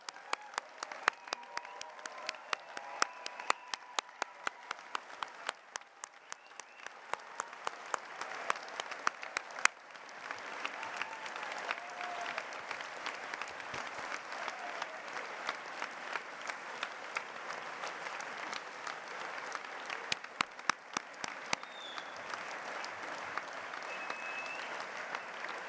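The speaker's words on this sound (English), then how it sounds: "round of applause." Sustained applause for graduates standing at a Cardiff University degree ceremony in a large hall, a broad, steady roar of many hands with sharper individual claps popping through, heard from a distance and continuing without pause.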